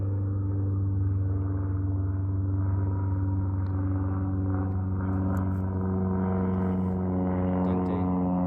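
A steady, droning airplane engine hums continuously with low rumbling tones, moderately loud and unbroken, with faint voices in the background.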